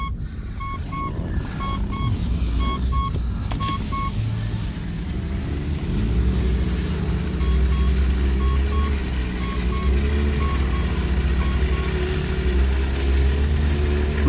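An off-road car wades through water on an off-road outing, its low engine rumble steady and close throughout, with a series of short electronic beeps sounding in spaced bursts and no talking.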